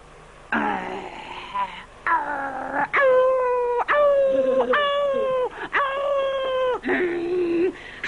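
A man imitates a wolf howling in a 1979 film, giving a series of long, wavering vocal howls and moans, loud and close with short breaks between them.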